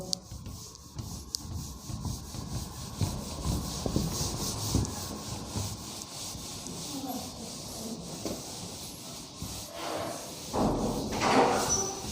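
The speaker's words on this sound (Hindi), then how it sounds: "तो मैं इसको रब करता हूँ" A duster or cloth rubs writing off a classroom board during a physics lesson, giving a steady scraping, swishing sound that runs for several seconds, close and moderately loud with a few soft thumps.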